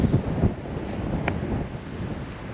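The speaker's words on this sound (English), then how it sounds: "She's windy and cold" Cold wind buffets the microphone at a campsite in regional Victoria near Geelong, a continuous low roaring rumble with gusty surges, heard alone with no talking.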